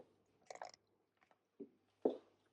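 Homemade cinnamon granola is chewed close up, with a quick cluster of crisp crunches followed by two more separate crunchy bites in a quiet setting.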